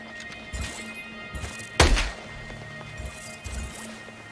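A weapon reloads in the video game Scavenger: a few muted clicks and thunks around a sharp metallic clack in the middle, close and distinct over faint background hum.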